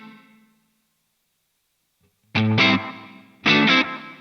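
Electric guitar played through an amp modeler with tape slapback echo: a distorted tail fades, then after silence two chord stabs ring out, each with a quick short repeat doubling the attack.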